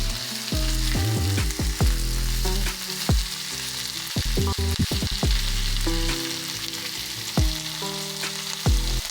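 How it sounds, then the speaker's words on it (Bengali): Chicken dressing fries in a pan with ginger, garlic and spices, giving a steady loud sizzle broken by repeated clanks and scrapes of a spoon stirring throughout. "আরও কিছুক্ষণ চিকেনের ড্রেসটাকে খুব ভালো মতো করে কষিয়ে নেব"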